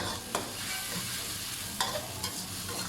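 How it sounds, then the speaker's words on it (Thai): Chili and garlic stir-fried in hot oil, a continuous close sizzle broken by a few sharp scrapes of the spatula against the pan. "ผัดพริกกับกระเทียมมันมันหอมกันนะพี่น้อง"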